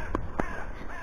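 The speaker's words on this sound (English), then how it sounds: "It's fine, it's birds." Two harsh caws from crows ring out over a snowy field, one short and one slightly longer, fairly close against steady outdoor background noise.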